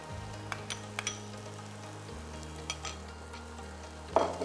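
Coconut cream is stirred into a pumpkin and spinach pasta sauce, with quiet scraping spoon strokes and occasional light clinks over a faint simmering hum, close and unvoiced.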